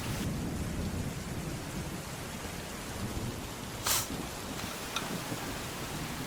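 Steady heavy rain hisses across the whole stretch, with low thunder rumbling underneath and one sharp bright crack near the middle, heard close and with no voices.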